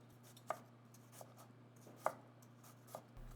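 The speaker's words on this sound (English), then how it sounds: "Now what we are going to do with ginger is to cut it into really fine juliennes." A knife slices ginger into very fine juliennes on a cutting board, faint, sparse taps spaced irregularly over a low steady hum.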